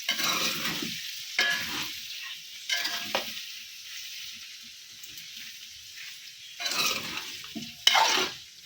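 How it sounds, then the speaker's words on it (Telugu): Small peeled potatoes drop into hot oil and fry, sizzling in several loud bursts as they are stirred in the pan, with quieter gaps between the stirs. "అవి నూనెలు వేసేసుకుందాం. ఇవి నూనెలో మంచిగా ఉడకాలి మనం."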